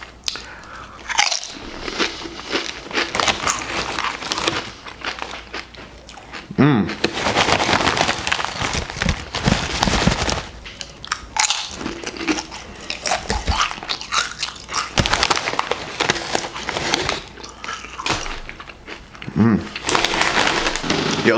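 Doritos Flamin' Hot Nacho tortilla chips bitten and chewed close up, with loud, repeated crisp crunches in bursts and quieter chewing between them.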